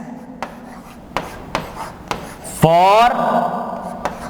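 Several short scratchy marker or chalk strokes on a board, tapping and sliding at irregular intervals, with a voice speaking close by and a brief squeaky stroke mid-way.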